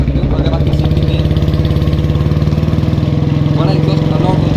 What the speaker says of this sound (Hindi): ये देखो इसका आवाज़ कितना बढ़िया है, और ये एग्जॉस्ट है इतना बड़ा।